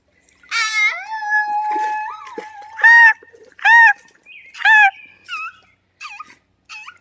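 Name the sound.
large wading bird in a river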